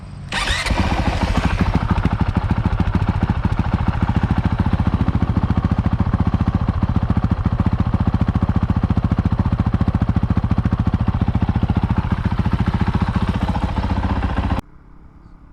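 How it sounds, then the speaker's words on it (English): A Honda CRF450RL motorcycle fitted with an FMF exhaust and Vortex ECU fires up and runs loud and close for about fourteen seconds at a steady, rumbling idle, then cuts off abruptly. "I'm going to start the bike now. First start."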